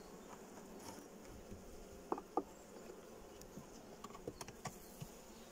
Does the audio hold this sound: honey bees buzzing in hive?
yes